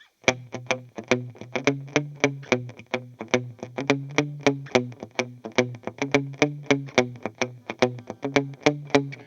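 Plucked electric guitar notes repeat in a steady, rhythmic pattern, each note echoing with decaying repeats, played alone without any voices.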